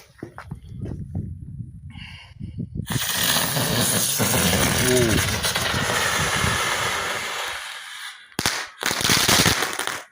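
A Golden Dragon pyrotechnic rose goes off after a few quiet pops, building into a loud, sustained crackling roar for several seconds, then a final short burst outdoors in the evening.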